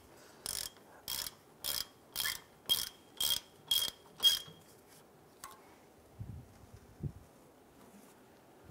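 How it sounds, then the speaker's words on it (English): Seven quick ratchet bursts, evenly spaced and close, as a ratchet snugs down bolts during a parking brake shoe job on a 2012-2017 Toyota Camry, followed by quieter handling clunks. "Snug these down with my ratchet."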